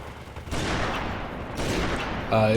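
Sustained gunfire in the shooter Halo 3: ODST with Marines firing from hills, a dense continuous crackle of shots building in bursts, with a brief electronic beeping tone near the end.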